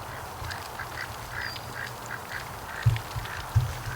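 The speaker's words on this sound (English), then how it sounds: "the ducks are having fun" Free-ranging ducks heading toward a lake give repeated, fairly close quacks in a loose rhythm over a low background hum, with a couple of louder, sharper calls near the end.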